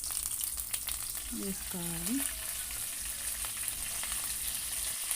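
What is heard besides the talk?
tempering spices and curry leaves frying in oil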